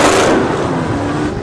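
A Dodge Charger with a 6.4-liter Hemi V8 accelerating hard on a highway during a police chase, a loud, steady engine roar that holds close throughout with no voices.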